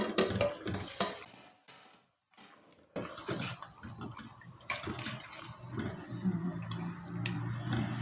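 Okra cooks in a pan for a sardine curry, giving a steady sizzle and bubbling with stirring scrapes. A lid clatters briefly near a short silent gap, and the cooking then carries on up close.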